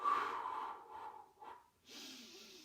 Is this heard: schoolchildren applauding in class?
no